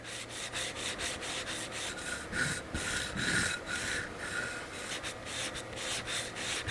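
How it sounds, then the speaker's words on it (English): A blade is sharpened on a Naniwa Superstone 400 silicon carbide water stone, giving repeated gritty rubbing strokes in a steady back-and-forth rhythm, close and continuous, with no voices. "so a very different sounding stone from the two ceramics we've worked with so far"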